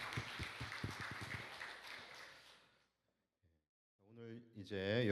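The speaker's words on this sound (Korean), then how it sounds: "우리 하나님께 감사와 영광의 박수 올려드리겠습니다" A church congregation applauds with dense, steady clapping for about two and a half seconds, which then fades into silence before a voice begins speaking.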